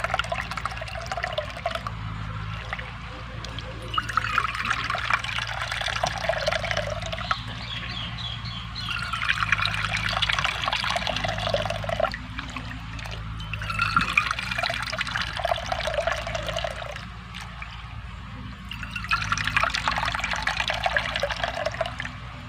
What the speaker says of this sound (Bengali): এই বাটির পরিমাপ করে আমি পাঁচ বাটি জল নিয়ে নেব